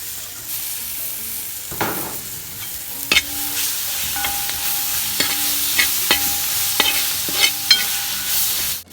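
Chopped tomatoes sizzle in a pan of masala for Kerala-style fish gravy, a steady frying hiss broken by regular scraping and clinking strokes of a spoon stirring.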